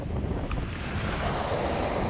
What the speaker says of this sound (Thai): ลมแรงขนาดนี้เราพยายามก่อสายให้ตึงนะครับ